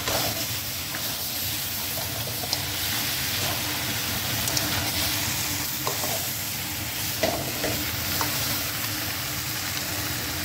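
Spiced crab curry masala fries in a pan with hot water added, giving a steady loud sizzle and bubbling hiss throughout, broken by a few light spoon scrapes and taps; no one talks.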